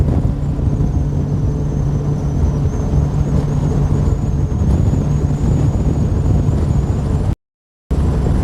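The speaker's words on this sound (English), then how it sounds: "It is a little breezier over here." Steady breeze blows across a microphone at Smith Lake, a continuous broadband rush with a low rumble that stays loud throughout and drops out briefly near the end.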